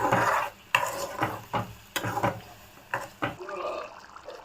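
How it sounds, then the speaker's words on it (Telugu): A spoon stirs a thick tamarind rice mixture in a pan, giving soft scraping and squelching strokes in uneven bursts. Someone speaks over the stirring. "ఒకసారి మిక్స్ చేసుకుందాము"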